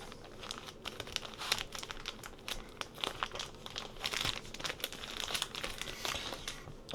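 Plastic packaging of a new DJI Osmo 360 camera crinkles and crackles steadily for several seconds, close and fairly quiet, with no talking.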